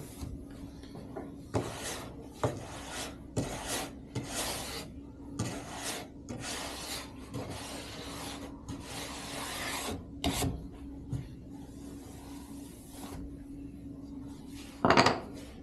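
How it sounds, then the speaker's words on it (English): A stiff nylon brush sweeps excess wax off a ski in quick repeated strokes, each a dry scratchy swish in an irregular rhythm, close and fairly quiet, with a brief louder knock near the end. "You're starting with your heaviest brush, that nylon. We're just going to brush this out."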